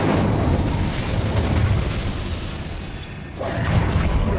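The Incendio fire spell is cast in Hogwarts Legacy, a roaring, whooshing fiery burst that swells and fades, then flares again near the end, loud with no talking.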